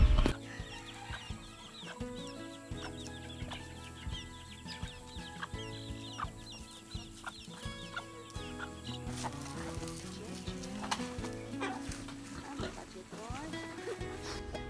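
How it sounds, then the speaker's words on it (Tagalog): Rhode Island chickens cluck and cackle amid a busy mix with music and a speaking voice, the fowl sounds scattered and partly masked. "Ito po ay Rhode Island chicken."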